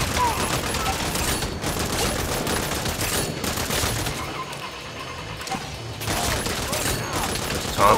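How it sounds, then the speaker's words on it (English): Thompson submachine gun fire in the video game Saints Row, sustained loud automatic bursts crackling almost continuously with short pauses, mixed with crashes and game noise. "This Thompson is really good to use."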